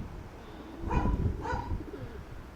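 Two soft cooing calls from a pigeon, close by, separated by a short pause over quiet outdoor background.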